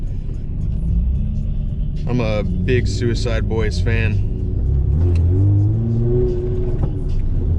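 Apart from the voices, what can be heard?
car engine running rough, bad mass airflow sensor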